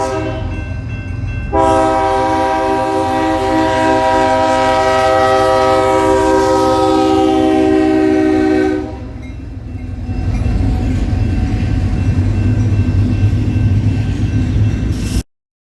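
An NS freight train led by an SD70M-2 locomotive rolls past, sounding a long, loud horn blast over the heavy rumble of the train. The horn stops and the rumble and clatter of passing cars continue alone.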